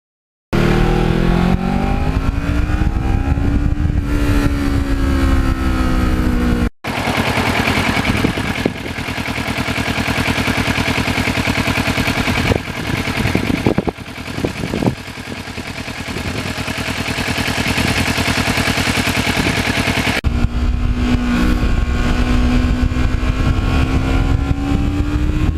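A black Kawasaki Ninja motorcycle rides along northern New Jersey back roads, its loud, close engine note rising and falling through revs and gear changes over continuous road and wind rush.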